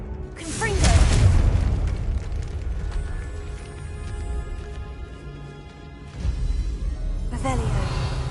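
A Confringo spell blasting in the Hogwarts Legacy video game, a loud booming burst near the start that rolls into a sustained rumbling roar, with a second surge of blast noise near the end.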